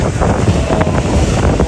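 Strong wind buffets the microphone aboard a pirate-style tour boat off Alanya, a loud, continuous roaring rush with faint hints of water beneath.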